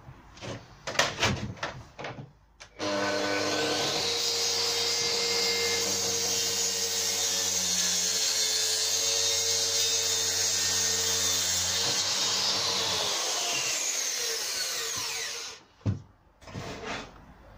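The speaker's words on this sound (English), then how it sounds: "Swap back to the finer blade for this cut, for this cross cut." Power saw fitted with a finer blade cross-cutting a wooden door blank in a basement, a sustained loud whining cut of about twelve seconds framed by clatter and handling noises before and after.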